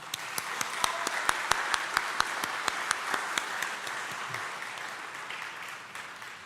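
A church congregation applauds steadily at an ordination service, with a few sharp individual claps standing out in an even rhythm before the clapping thins slightly.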